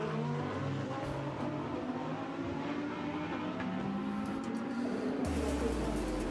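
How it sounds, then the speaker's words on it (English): Pro-Am leading Ferrari race car at the 24 Hours of Spa 2022 endurance race sweeps past the timing line, its engine note rising and falling as it passes, with steady track roar behind. "over the timing line there goes the Pro-Am leading Ferrari"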